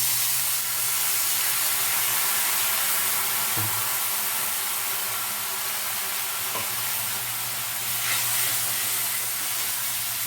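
Cumin and coriander powder hiss and sizzle in a pan with a splash of water, cooked for a brinjal dish; a continuous close, even frying hiss with a few faint clinks of stirring.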